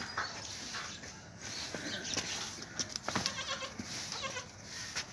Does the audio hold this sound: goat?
yes